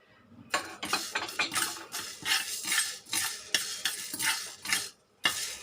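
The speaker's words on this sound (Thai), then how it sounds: "พอคั่วพริกไทยดำลงไปสักพักหนึ่งนะคะ เราก็จะเอาเม็ดผักชีนะคะ ลงไปคั่วเลย" Black pepper and coriander seeds dry-roasted in a pan, with repeated scraping and clinking of a utensil stirring against the metal in quick irregular strokes, close and fairly loud, with a short pause near the end.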